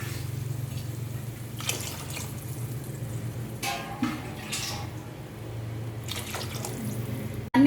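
Water poured from a tumbler into a cooking pot of spiced vegetables for biryani, with splashing bursts and trickles over a low steady hum, no talking.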